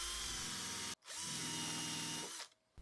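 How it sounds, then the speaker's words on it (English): A power drill with a buffing pad and coarse buffing compound polishing a woodworking hand plane blade, whirring in two close bursts with a brief pause between, a steady buffing hum against metal, then cutting off. "Fit the buffing pad into the drill chuck."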